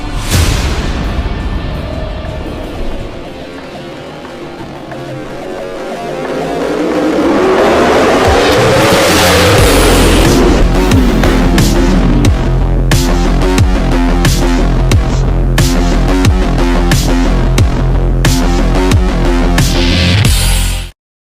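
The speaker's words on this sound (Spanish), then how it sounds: "aquí tenemos la RS660, que es la moto que todos estábamos esperando" An Aprilia RS 660 motorcycle engine, quiet at first, then revving up hard and staying loud and close with sharp, rapid throttle rises and drops.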